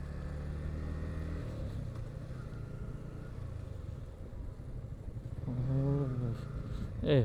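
A motorbike ridden on a foggy winter morning hums steadily close by with a continuous engine drone, and it rises into a brief rev near the end.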